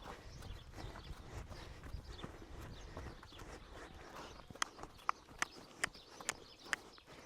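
A horse canters in a dressage session with a steady rhythmic run of soft hoofbeats, followed by a series of sharper, clearer hoof strikes toward the end, heard at moderate distance.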